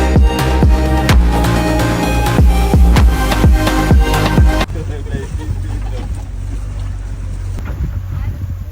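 A tourist boat moves on the backwaters of Munro Island in the rain. Loud rhythmic music plays first, then gives way to a steady low engine and wind rumble.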